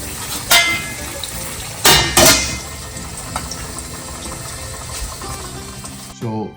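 Clams tumble into a hot pan for seafood fettuccine with a few sharp clattering knocks over a steady sizzle, followed by a metallic clank as a lid goes on.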